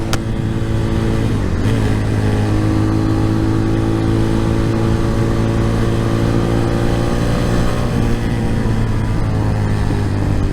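Magician 250 motorcycle engine pulling hard through the gears on pavement, a loud, steady drone with rising pitch sweeps as it winds out, a brief dip near two seconds and another shift around eight seconds, no talking.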